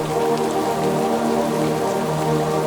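Steady rain falls in a dense, even hiss with no letup, close and fairly loud, with no voices.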